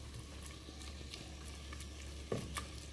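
Ground beef fries in a spoonful of lard and salt while being stirred in a pot, giving a faint, steady sizzle with soft scraping and a sharper clatter of the spoon near the end.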